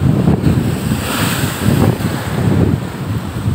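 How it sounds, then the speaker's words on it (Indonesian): Sea waves crash and surge over the seawall on the West Lampung coast, a loud continuous roar of churning water with strong wind buffeting the microphone, swelling in waves, with no voices. "nih gelombang lautnya itu ini airnya sampai ngelewatin pembatas di bibir pantai"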